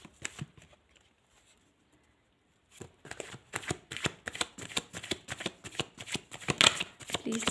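Tarot cards shuffled by hand: quiet at first, then a run of rapid, crisp riffling slaps that carries on steadily to the end, close and fairly loud.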